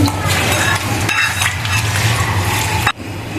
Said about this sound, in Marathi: हा संपूर्ण असा लिंबू पिळून घ्यायचा मी आणि छान मिक्स करून घ्यायचं